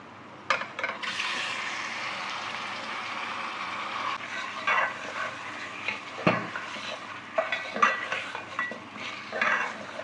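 Chicken and onions sizzling and frying in a pan, with scraping and stirring of a utensil against the metal, steady hiss throughout.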